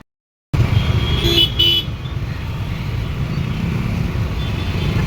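Busy road traffic rolls through a town junction at night, with a steady close rumble of passing vehicles and a short burst of car horn honking early on, no talk over it.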